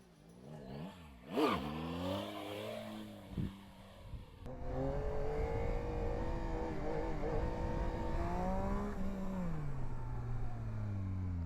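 A Yamaha Tracer GT motorcycle revs hard during a wheelie: a sharp burst of engine revving, a brief pause, then a sustained high-revving acceleration climbing in pitch, heard up close without talk.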